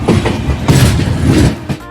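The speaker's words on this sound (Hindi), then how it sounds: "2 मिनट होल्ड के बाद अपनी ट्रेन का डिपार्चर चुका बछवाड़ा जंक्शन से।" A passenger express train pulls out of Bachhwara Junction, a brief loud, close rumble with a few heavy clanks and rolling clatter.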